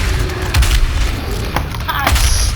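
Heavy gunfire and booming blasts from the Doom Eternal video game, a dense, loud barrage of repeated shots and thuds running throughout.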